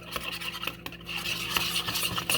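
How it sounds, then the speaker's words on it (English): A gelatin mixture is whisked into heavy cream for keto chocolate pudding, a close, continuous rhythmic scraping and swishing of a whisk against a bowl, brisk and unbroken, with no talk. "you just want to keep whisking it together"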